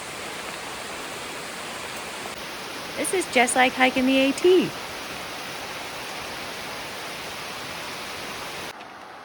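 Heavy rain pours steadily onto a forest trail in a dense, unbroken hiss, with someone speaking briefly over it partway through.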